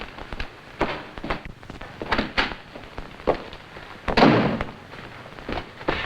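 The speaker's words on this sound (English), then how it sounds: "those shots I heard, sir," Sharp firecracker pops in a 1943 radio drama, mistaken for gunshots: a scattered series of crisp bangs and thuds, several close together, with one louder burst near the end, heard without talk.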